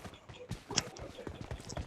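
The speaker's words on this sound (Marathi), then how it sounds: "काय घोड्यावनं गेला" In the PUBG video game, a horse's hooves clip-clop in a quick, uneven series of soft thuds, fairly faint and close.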